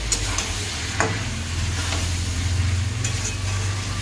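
Chicken sautéing with plenty of chili powder in a pan gives a steady close sizzle with a low rumbling undertone, broken by a few sharp scraping stirs of a spatula.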